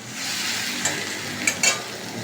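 Taro leaves and chana dal cooking down in a pan, a steady soft sizzle with a few brief spatula scrapes near the end, no talking.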